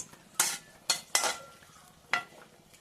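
Bay leaf and dry red chili go into hot oil in a pan, with a light sizzle under four sharp clanks of a spatula stirring against the metal, spaced unevenly and heard close and quiet.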